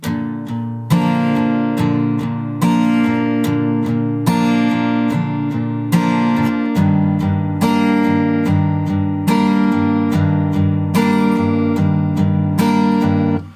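Strummed guitar chords ring out steadily in a full, sustained progression, with regular chord changes and no voices.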